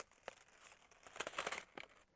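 Printed paper crumpled again by hand, a quiet run of crinkling rustles with a few sharp snaps, building to a denser burst of crackling before trailing off.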